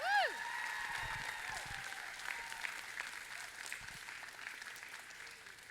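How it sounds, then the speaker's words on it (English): An indoor audience at a FIRST Tech Challenge POWERPLAY regional championship in Louisiana claps steadily, a soft, far-off wash of applause with a few faint whistles near the start. "another big round of applause for our generous sponsors"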